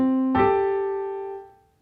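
Piano in a lesson on a song: a soft held note rings, then two notes struck together with the side of the thumb bloom loud and clear and slowly decay alone.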